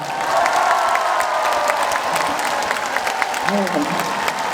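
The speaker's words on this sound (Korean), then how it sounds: "군수님한테 박수 한 번만 주시겠어요" At a county-day celebration concert, an outdoor crowd gives applause and some cheers for the county governor, a steady wash of clapping with voices and a singer's speech over it.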